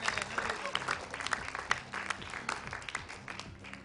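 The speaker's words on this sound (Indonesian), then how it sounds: "Boleh sekali lagi tepuk tangan untuk Alwi." Studio audience applause at an Indonesian Quran recitation (MTQ) talent show, a steady wash of many hands clapping throughout, with a voice mixed in.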